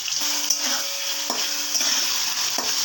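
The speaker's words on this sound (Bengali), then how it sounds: "শাহী পনির বানানোর সময় পনিরগুলোকে খুব বেশি রকম ভাজা হবে না।" Paneer cubes fry steadily in a pan of hot oil for shahi paneer, a continuous close sizzle with occasional soft stirring clicks and scrapes, no voices.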